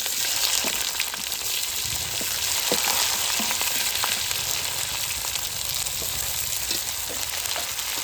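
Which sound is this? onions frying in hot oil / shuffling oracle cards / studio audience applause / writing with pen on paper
onions frying in hot oil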